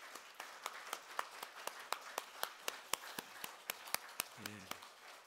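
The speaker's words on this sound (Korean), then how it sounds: "우리 감사의 박수 한번 하도록 하겠습니다" A church congregation at a 50th-anniversary revival service gives a round of thanks, with fairly sparse, quiet hand claps pattering in an irregular but steady stream for several seconds.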